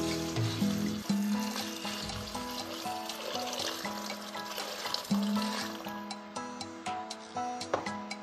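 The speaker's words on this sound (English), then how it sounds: "Now I'll be adding my water" Water poured into a cooking pot to make stock for beef and shrimp coconut rice, a soft continuous trickle and splash in a kitchen, faint beneath a steady background music bed.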